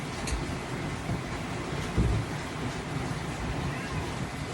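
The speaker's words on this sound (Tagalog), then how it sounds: "Lakas ng ulan dito sa amin" A dense, steady hiss of heavy rain pours down without a break, with a dull thump partway through.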